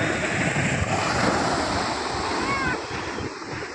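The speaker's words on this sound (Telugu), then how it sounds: "అలలు అయితే చూడండి ఎంత దూరం వచ్చే అలలు చూసారు కదా" Ocean surf roars continuously up close at Udayagiri, broad and hissing with wind buffeting the microphone, easing slightly toward the end.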